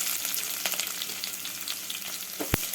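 Chopped onion and curry leaves sizzle in hot oil during a mustard-seed tempering, a steady close frying hiss with scattered crackles and one sharp clatter near the end.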